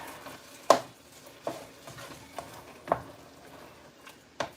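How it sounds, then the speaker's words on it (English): Thyme is stirred into sausage and butter in a pan: a spoon scrapes and taps in a handful of sharp strokes over a quiet, low sizzle, with no voices. "we're going to mix this in with our sausage and our butter"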